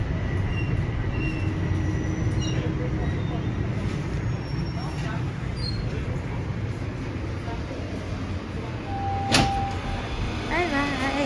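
A Toronto subway train pulls into a station, a sustained loud rumble and rail clatter with a squeal near the end, as people talk over it.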